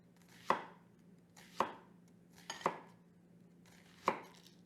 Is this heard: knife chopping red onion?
yes